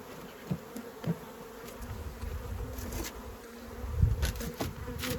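Honeybees from a drone-laying colony buzz close by, a continuous low droning swarm with individual bees passing near the microphone and swelling louder toward the end.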